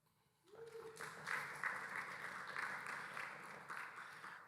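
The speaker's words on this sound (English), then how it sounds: "Please clap." An audience at a tech talk breaks into applause after a short quiet moment, a sustained patter of clapping that carries on to the end.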